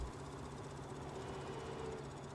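An old electric tractor in Farming Simulator 19, left running, gives off a faint, steady mechanical hum with a constant low drone and no talking.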